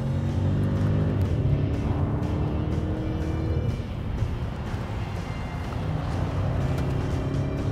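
A Jaguar car accelerates hard on the hill climb at Goodwood Festival of Speed, its engine roaring loudly and rising in pitch through a gear change, heard from on board.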